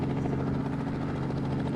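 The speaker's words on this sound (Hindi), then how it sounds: "जब हमारे पास अपना हेलीकॉप्टर है तो कहीं भी जाना होगा ना तो हेलीकॉप्टर में जाना" A helicopter in a video game featuring characters like Motu Patlu, Doraemon, Bheem and Hulk makes a loud, continuous rotor drone with a steady rapid chop, close and unbroken, without speech.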